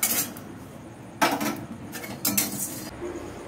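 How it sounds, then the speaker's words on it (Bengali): Black peppercorns dry-roasting in a pan over a low flame, stirred in scratchy rattling bursts that come and go, close by and without speech. "এবার দিচ্ছি গোলমরিচ, একদম লো ফ্লেমে কিন্তু ভাজতে হবে"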